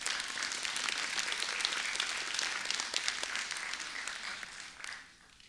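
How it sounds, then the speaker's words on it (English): A crowd at a university awards ceremony breaks into a round of applause, many hands clapping densely for several seconds before it thins and fades out at the end. "we should give another round of applause"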